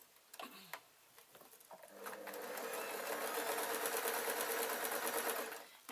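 A domestic sewing machine runs a steady, continuous stitching burst along a seam on a sheer gossamer fabric bag, preceded by a few soft clicks and handling taps; close and moderately quiet, no talking.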